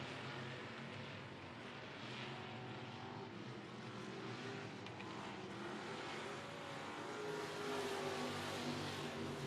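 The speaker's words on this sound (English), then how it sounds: "We're racing here again with our pure stocks." Pure stock race cars roar around a speedway track in a steady, continuous engine drone with rising revs near the end, fairly distant and without talk.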